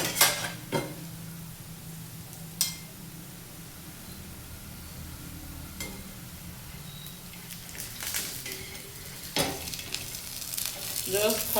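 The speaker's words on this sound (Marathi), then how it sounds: "त्याची एक बाजू स्लो गॅसवर भाजायची आणि साधारण एका पोळीला 1 पळी तेल तरी लागेल." Besan poli frying in oil in a pan over a low gas flame, a steady soft sizzle throughout with occasional clinks and scrapes of a utensil against the pan.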